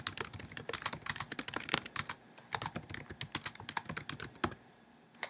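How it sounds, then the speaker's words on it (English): Close, brisk typing on a computer keyboard while a description is entered, a steady run of light key clicks with short pauses and a brief stop near the end. "I'm going to type in a description."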